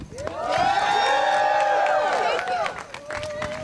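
A crowd at a rally to protect HUD applauds Representative Tlaib, with loud, sustained clapping, cheering and rising whoops that swell for about two seconds and then thin out into scattered voices.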